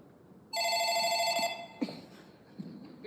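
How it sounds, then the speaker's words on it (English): An old-style telephone bell rings once for about a second on a live comedy stage, fairly faint, followed by a few soft thumps. "That's the phone, Ken."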